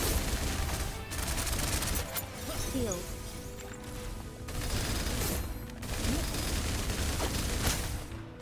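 Rapid automatic gunfire in a video game comes as dense, loud, sustained bursts broken by short gaps, with crashing impacts layered throughout.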